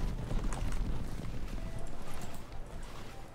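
Horses galloping in the medieval strategy game Stronghold 2, a steady drumming of hoofbeats over low rumble through the whole stretch, loud and close with no talk.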